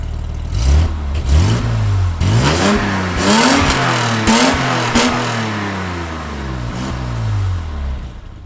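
Close, loud revving of a classic BMW six-cylinder car engine in repeated bursts, pitch climbing and dropping several times before settling back toward idle; no talking.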